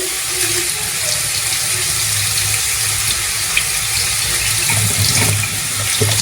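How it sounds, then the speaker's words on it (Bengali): Tap water runs steadily into a kitchen sink while mutton is being washed, a constant close rushing stream with occasional small splashes and clatters. "মাংসটা ধুতে হবে।"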